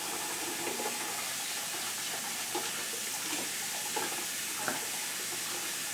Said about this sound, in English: We're going to run this under cold water.